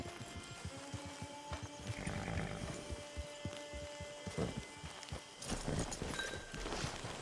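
A horse's hooves clip-clop at a steady walk in the Western video game Red Dead Online, rhythmic and moderately close, with faint tack creaks and quiet ambient game sounds underneath.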